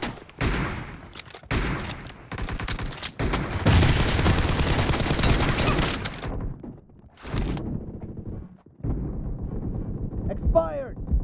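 Gunfire rattles in the game PUBG, played on a POCO M2 Pro phone: loud rapid bursts and a sustained volley, broken by short pauses, with brief voice callouts in between.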